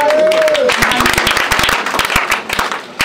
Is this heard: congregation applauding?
yes